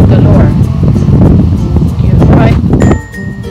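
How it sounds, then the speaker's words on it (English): Strong wind blowing outdoors buffets the microphone with a loud, continuous low rumble that eases off slightly near the end. "It's kind of windy today."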